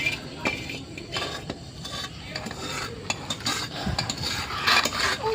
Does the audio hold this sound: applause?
no